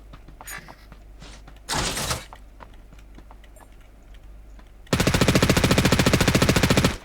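Video game gunfire: a short burst of shots, then a long, loud stream of rapid automatic gunfire, close and harsh, with faint clicks earlier and no speech.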